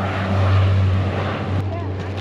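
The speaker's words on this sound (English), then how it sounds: "Kind of makes me sad to see a plane fly away because we know what's coming." A propeller airplane taking off on Carriacou ahead of a hurricane drones loudly at first and then thins and fades as it flies away, with a sharp tick near the end.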